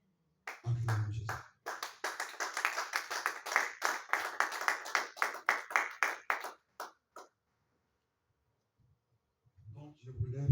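Church congregation clapping to acclaim Jesus, a steady rhythmic run of handclaps that stops abruptly, with brief voices at the start and end.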